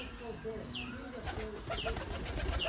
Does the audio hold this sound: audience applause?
no